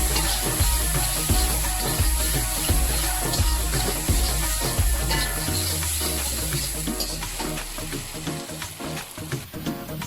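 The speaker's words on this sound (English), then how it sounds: "Now we are going to fry all of them together until we see the tomatoes have dissolved in the masala." Tomatoes and masala fry in a pan with a loud, continuous sizzle, while a rhythmic stirring thump repeats regularly through the first half, then the sizzling carries on alone.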